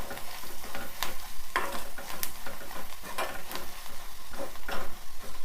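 Turmeric stirred through a tamarind-leaf and egg curry in a frying pan, a low constant sizzle broken by repeated scraping strokes of a spoon against the pan, close and unhurried, without any talking.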